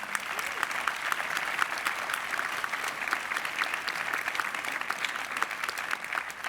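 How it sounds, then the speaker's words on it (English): Sustained applause from a crowd at a university honors convocation, dense steady clapping without pause throughout. "Let's give them a round of applause."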